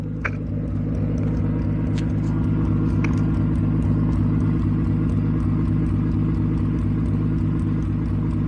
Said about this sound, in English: So this is ignition cut at the same RPM.